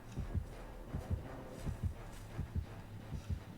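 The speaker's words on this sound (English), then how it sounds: "The heartbeat you guys hear is like the killer's radius" A heartbeat pulses as a warning that the killer is near in the Dead by Daylight video game, its low double thumps coming steadily about twice a second and moderately loud with nothing else over them.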